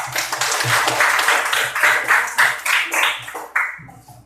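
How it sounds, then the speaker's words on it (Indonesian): A classroom of students claps together for a classmate after a correct answer, a dense, steady patter of many hands that thins into scattered claps near the end. "Tepuk tangan untuk Eka."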